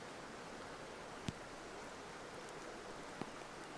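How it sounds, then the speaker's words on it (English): A river flows as a faint, continuous watery hiss in the background of a quiet outdoor setting, with a couple of tiny clicks and no talk. "You can hear the river in this video, the birds perhaps."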